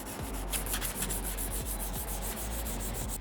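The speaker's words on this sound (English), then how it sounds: "So that was 5 minutes with the 320 grade sandpaper." Car headlight lens being sanded by hand with 320 grade sandpaper, a steady, close, loud rhythmic rasping of repeated back-and-forth strokes with no talking.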